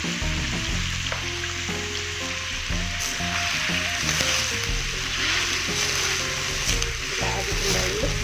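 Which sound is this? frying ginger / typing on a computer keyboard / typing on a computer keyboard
frying ginger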